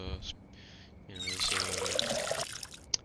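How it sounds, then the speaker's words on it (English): Water splashes from a watering can onto a plant in the video game Schedule 1: a steady pour lasting about a second, with a voice talking before and around it. "We'll water it anyways."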